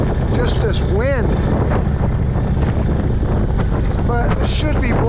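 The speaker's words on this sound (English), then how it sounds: "It's just this wind." Strong wind buffets the microphone at a motorcycle campsite in Helen, Georgia on a cold, sunny day, a continuous low roaring rumble with a few faint chirps above it.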